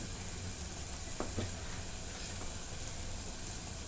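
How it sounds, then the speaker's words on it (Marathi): Masala with red chili powder and turmeric sautéing in a pan for chicken rassa, giving a steady, dense sizzle with a couple of faint stirring scrapes and no talk. "मसाला परतून घेतला लाल मिरची पावडर टाकून घेते हळद टाकून घेते"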